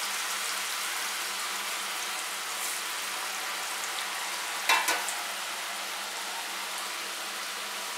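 Chakli, a crisp Diwali snack made from bhajani flour dough, frying in hot oil, giving a steady close sizzle and bubbling with one brief clatter of stirring or turning midway, no talk.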